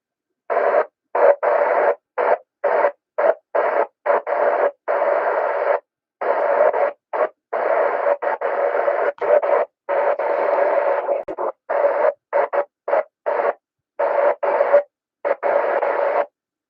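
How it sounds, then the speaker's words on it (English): Harsh bursts of FM radio squelch-breaking static on 146.415 MHz during an amateur radio net, chopping on and off in rapid, irregular bursts, loud and hissy with brief silent gaps between. "It was all just squelch breaking noise."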